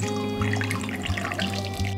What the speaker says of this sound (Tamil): இது இன்னும் கொஞ்சம் தண்ணி ஊற்றிக்கோங்க, ஒரு கப் அளவுக்கு